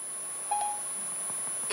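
A smart home alarm triggered through Siri gives a short, faint electronic beep, followed a moment later by a second brief chirp, against quiet background hiss.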